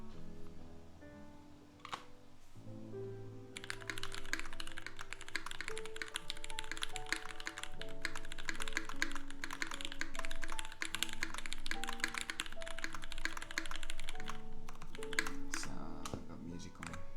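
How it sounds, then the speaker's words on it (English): Rapid, steady typing on a Lin Whale 75 mechanical keyboard fitted with GMK Modo keycaps, with dense overlapping key clacks close to the microphone and music playing underneath. "Sound test with the Modo, the GMK Modo."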